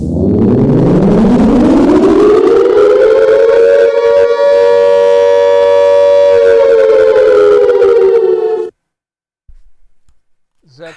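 An ambulance siren wails loud and close with a long rising sweep that holds a steady howling tone for several seconds, then cuts off abruptly, leaving faint sounds afterward.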